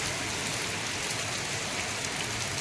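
Heavy downpour in Bhadrak district, an unbroken, loud hiss of rain striking surfaces close by, steady throughout with no voices.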